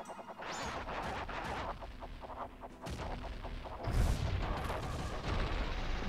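Bombs detonate in The Legend of Zelda: Majora's Mask during a bomb hover, with a few sharp booms over a steady bed of game ambience.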